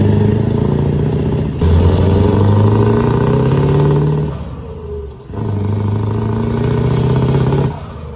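Scania truck engine with upgraded turbo and injectors revving hard and loud in repeated long pulls, pitch climbing each time, with a brief dip between bursts and no talk.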